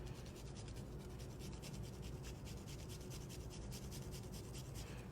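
Big garlic cloves rubbed against a grater, a continuous close scraping rasp in quick regular strokes, quiet and steady with no talk.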